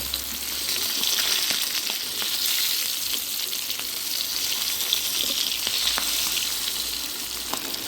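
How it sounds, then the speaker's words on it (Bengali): Koi fish frying in hot oil gives a steady, dense sizzle that lasts the whole time, with faint crackles and small pops scattered through it and no talking. "তেলটা গরম হয়ে গেছে আমি দিয়ে দিলাম মাছ"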